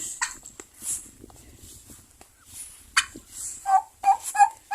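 A turkey gobbles in short repeated bursts toward the end, close and fairly loud, after quieter scattered bird calls and rustling.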